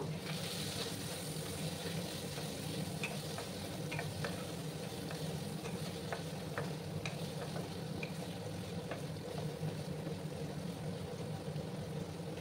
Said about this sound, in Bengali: একটু লাল করে আমি ভেজে দেবো।